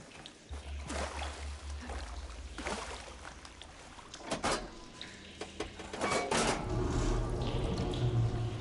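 Water rushing and gurgling through pipes in the Horizon Forbidden West game, a steady watery wash with a low hum, rising louder toward the end.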